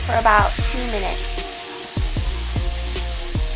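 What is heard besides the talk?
stir frying green peas with garlic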